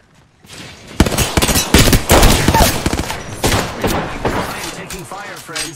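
Rapid bursts of video game gunfire crackle close and loud, a dense volley of overlapping shots that rises sharply and keeps going with little pause.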